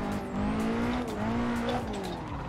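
A Nissan S13 drifts around a track, its tires squealing in long wavering tones over a loud, continuous engine drone, sustained across the whole stretch.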